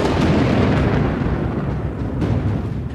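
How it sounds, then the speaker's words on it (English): Thunder from a brewing afternoon storm on open plains rolls as a dense, low, sustained rumble, loud and unbroken for a few seconds with no voices. "As the afternoon wears on, a storm begins to brew."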